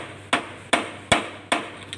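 A tight steel bearing cup is driven in dry with a hammer during a vehicle repair, without proper tools. Four sharp, ringing metal blows land close by at an even, unhurried rhythm, with no talking.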